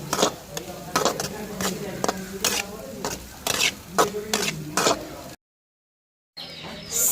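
Raw prawns fry in oil in a pan with a soft sizzle under repeated scraping stirs of a utensil, rhythmic and close, cut by a short silent gap before the sizzle resumes.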